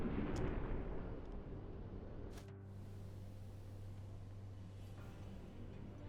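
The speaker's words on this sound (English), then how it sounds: "Torpedo has left the tube." A torpedo launches from a U-boat tube in the submarine game UBOAT: a deep, rumbling rush of pressurized air and water swells and then settles into a steady low mechanical hum of the boat, with no talking.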